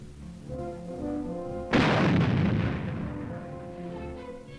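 A single heavy gun blast on a military firing range booms out partway through, loud and close, and its echo rolls away over a steady background hum.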